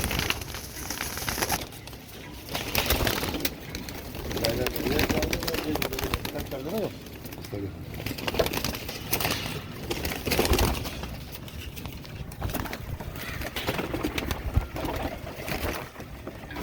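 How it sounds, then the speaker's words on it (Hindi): A large flock of Kamagar pigeons coos together in a loft, a dense murmuring bed of soft calls with wing flutters, heard close with someone talking over it. "देखो समंदर, कबूतरों का समंदर है"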